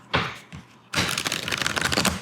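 Deck of affirmation cards being shuffled: a couple of brief soft riffles, then a longer dense burst of rapid crisp card flutter, close and clear with no talking.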